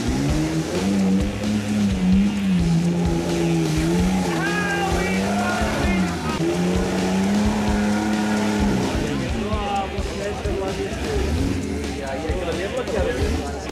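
Off-road trail car revving hard through mud at a lost-in-the-mud trail event in Criciúma, Brazil: a loud, rising and falling engine roar with wavering pitch, close by and sustained, under a commentator's voice.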